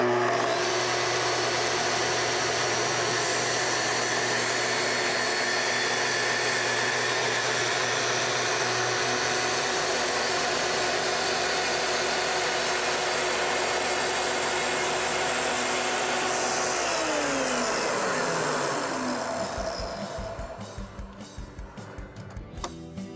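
A TS-55 plunge-cut saw running on a guide rail during a plunge cut gives a loud, steady motor whine for about nineteen seconds, then winds down and falls quiet near the end.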